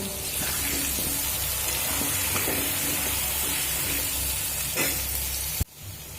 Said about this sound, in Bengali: মিডিয়াম ফ্লেম করে আলুটা ভাজা হতে দেবো